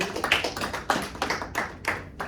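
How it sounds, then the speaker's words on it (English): A small audience claps for a young man named Kevin at a university leadership talk: uneven bursts of hand claps, fairly close and loud, rising and falling over a couple of seconds. "clap it up for Kevin, please"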